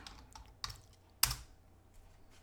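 Quiet typing on a computer keyboard, a few soft key taps followed by one sharper, louder keystroke, close and isolated with no speech.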